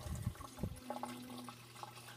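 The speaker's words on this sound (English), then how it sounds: "That should have started the siphoning." Water siphons through a small tube into an aquarium sump on a saltwater tank setup, a faint low gurgle and trickle at close range.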